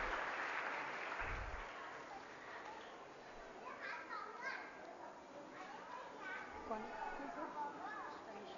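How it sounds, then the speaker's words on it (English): Parents in the audience at a play group annual day in Vasai clap briefly at the opening, then children's chatter and adult voices take over, with a presenter's voice heard faintly over the room. "Parents, clap."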